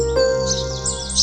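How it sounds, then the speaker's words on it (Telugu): Birds chirp in a cartoon forest: a run of quick, bright tweets and rising trills, close and fairly loud over a steady background tone, with no voices. "ఇవి చాలా అరుదైన జాతి పక్షుల్లా ఉన్నాయి"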